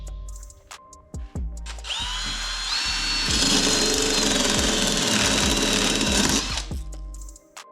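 Power tool notching a metal piece for a Power Wheels frame, starting with short bursts, then a long steady high-pitched whining cut with grinding, rattling texture before it winds down to a few brief stops.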